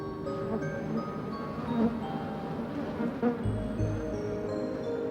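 Bees buzzing around their hive, a steady, fairly faint swarm drone with a few individual insects passing close, no voices.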